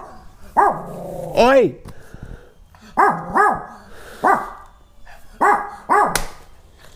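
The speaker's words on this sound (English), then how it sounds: "She's gonna bark." A dog barks in a car garage, giving several close, sharp barks in pairs and short bursts, mixed with whiny yips, while a person speaks briefly.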